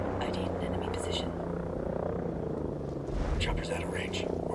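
An enemy helicopter in the Ghost Recon Breakpoint video game drones with a steady low rotor rumble that swells slightly near the end, under in-game voices.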